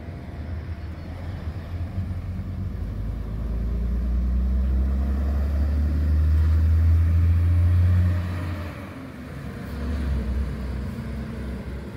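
A SARITUR bus, fleet number 23800, runs its engine in a deep, steady rumble that swells louder in the middle, then drops back and rises again, with no talking.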